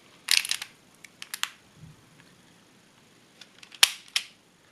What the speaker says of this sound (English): Shutter is always ready to go, so you just take a picture any time.